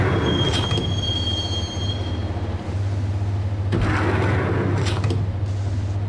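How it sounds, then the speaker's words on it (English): A subway train in the Max Payne video game rides the rails with a steady low rumble, shrill wheel squeals early on and clattering rail joints later, close and continuous with no talk. "the train doors had already shut behind me, and I was in for the ride"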